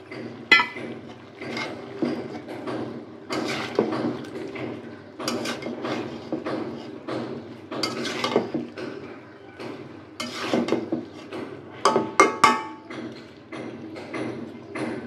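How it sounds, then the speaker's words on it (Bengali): Chopped ash gourd is stirred into a pot of partly cooked braised meat, giving repeated scraping, clacking spoon strokes against the pot in an irregular rhythm, close and moderately loud with no talk. "এ পর্যায়ে দিয়ে দিচ্ছি কাটা চাল কুমড়া"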